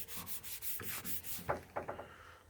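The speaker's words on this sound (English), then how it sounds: "I just do 10 round trips on this smooth leather strop only if I'm not honing" A straight razor is stropped on a smooth leather strop, with quick, close rhythmic rubbing strokes, each pass a soft swish, about eight strokes in a row.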